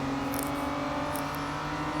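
Aston Martin DBR1-2 racing car engine in the Real Racing 3 mobile game, a loud sustained engine drone with steady tonal whine as it accelerates, with no voice.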